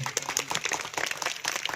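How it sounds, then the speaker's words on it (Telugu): A school audience applauds the weavers, with steady, fairly faint rapid hand clapping from many people all the way through and no voices on top. "నేతన్నలకి ఒకసారి గట్టిగా చప్పట్లు కొట్టాలని"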